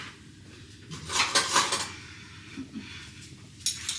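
Spoons scrape and clink against a metal sheet pan while no-bake cookie mixture is scooped and dropped, a few bright close metallic taps and scrapes in quick succession, with no talking.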